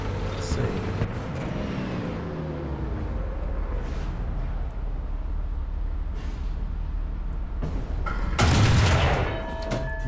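A British FV4005 tank destroyer's heavy cannon fires in War Thunder, one loud, booming blast near the end, rising above steady engine rumble and battle noise.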